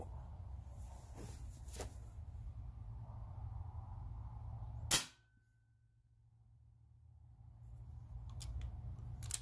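A Hatsan Nova .177 air rifle rated over 40 fpe fires a single 15.5 NSA slug, making one sharp, loud crack in the middle, with quiet background hum before and after.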